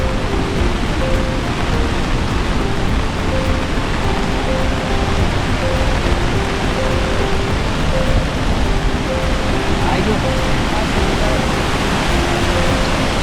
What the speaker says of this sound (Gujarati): અહીંયાથી આ ધોધ પડે છે, નદી આવે છે